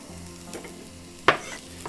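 Onion frying in hot butter for a steak sandwich: a soft, steady sizzle with a few light stirring taps and one sharper scrape near the end, heard close up.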